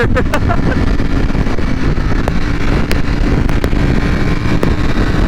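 Ducati Panigale V4 R, a 2020 sport motorcycle, riding fast on a freeway in fourth gear, its engine a steady loud drone buried under heavy rushing wind noise throughout.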